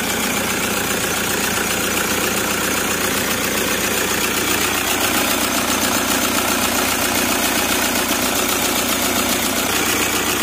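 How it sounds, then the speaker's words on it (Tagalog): A Toyota Hiace engine runs steadily with a loud, noisy bearing and belt, giving a continuous mechanical whine and rattle close up, with no talking. "Sobrang ingay ng anong engine, yung bearing at belt ay tumutunog."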